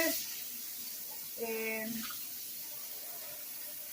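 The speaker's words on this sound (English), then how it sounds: "I do have to add some water to it" Water runs from a tap into a chicken stew pot already holding unpeeled potatoes and carrots, a steady hiss and splash that fills the background, with a short spoken word and a brief voiced sound partway through.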